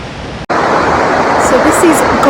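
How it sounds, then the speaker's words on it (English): Gullfoss waterfall in Iceland, a loud, steady broadband roar of falling water after a brief cut near the start, with talking over it. "So this is gulfoss waterfall, which means gold waterfall, because it often creates a rainbow over the top of it."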